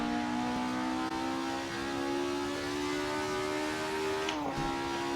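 A race car engine in Assetto Corsa revs high toward 9,000 RPM, a loud sustained whine that climbs steadily in pitch, then drops sharply near the end before picking up again, with no voices over it.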